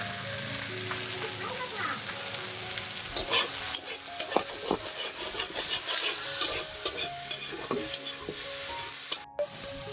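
Malabar spinach greens fry in a pan with a steady sizzle. Scraping stirs become quicker and denser halfway through and stay close and clear.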